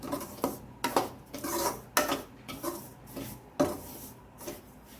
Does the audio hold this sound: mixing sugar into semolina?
yes